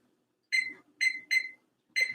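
Four sharp electronic beeps from a kitchen timer being set, short tones in an uneven pattern, close and clear with quiet gaps between them and no talking.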